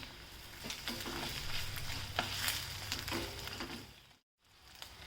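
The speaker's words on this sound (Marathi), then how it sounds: "हे सगळे मसाले घालून घ्यायचे मसाल्यांना चांगलं परतून घ्यायचं" Spices for Punjabi dhaba-style rajma masala, cumin, bay leaf, cinnamon, onion, curry leaves and ginger-garlic paste, frying in oil in a pan, a steady close sizzle with stirring scrapes and a brief pause near the end.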